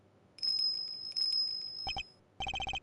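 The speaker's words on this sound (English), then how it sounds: "Is that a bell around its neck?" A small bell tinkles in the Ace Attorney Investigations 2 video game, sounding as a sustained high shimmering ring and then as quick repeated chimes, with no talk.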